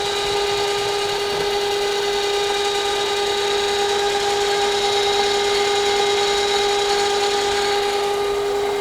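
A milling machine makes a conventional milling cut on a part for a Wright roller kit: a steady, loud whine with a bright tonal ring that holds unbroken throughout, with no voices.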